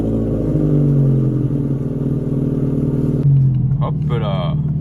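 A Ferrari engine, started after sitting unused for four years, idles with a steady low drone, then shifts pitch briefly near the end, heard up close and fairly loud.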